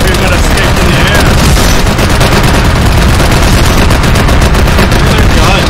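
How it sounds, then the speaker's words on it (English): Dense, continuous rapid gunfire with booms, loud and close, in a Clash of the Titans game, with a voice speaking now and then beneath the barrage. "These are guns."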